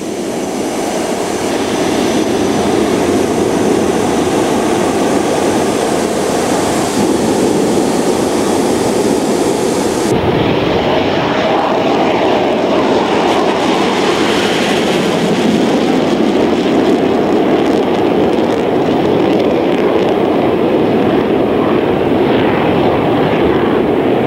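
A Tornado twin-engine, variable-sweep wing multirole combat jet roars past at close range, a loud continuous broadband jet rumble that stays steady throughout, with the high hiss dropping away partway through as it passes.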